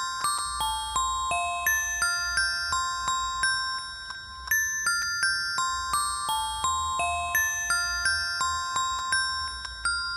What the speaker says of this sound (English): So I just added some more bells.